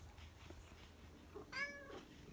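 A cat gives a single faint meow in a quiet room, followed by a softer trailing sound. There is no other talking.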